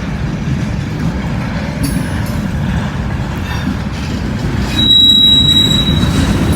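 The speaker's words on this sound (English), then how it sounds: "Well, there's a multi-compartment tanker." A freight train rolls steadily past at close range, including a tank car with four separate compartments, giving a loud continuous rumble of wheels with a thin high metallic squeal that sharpens near the end.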